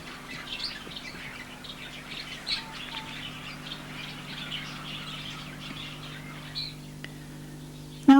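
Caged birds chirp and squawk in a dense, busy chorus of short tweets at moderate level over a low steady hum, with a sharp knock at the very end.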